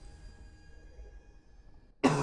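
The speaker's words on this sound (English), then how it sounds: "So I hope I'm not coughing up a storm throughout this whole video." A single sharp cough bursts out at the very end after a stretch of quiet room hum, loud and close to the microphone.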